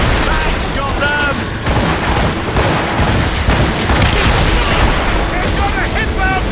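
Naval cannon fire from a sailing ship battle in Assassin's Creed Rogue, a loud continuous barrage of booms and blasts with crew voices shouting over the dense, rumbling din.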